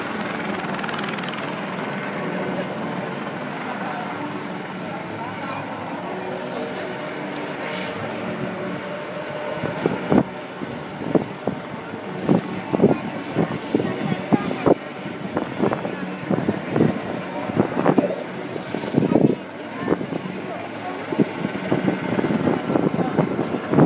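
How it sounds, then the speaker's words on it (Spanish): Two aerobatic display helicopters drone steadily at a distance, with a chopping rotor rumble that swells and pulses louder through the second half, mixed with wind and air show crowd noise. "Y al frente, dos helicópteros de nuevo"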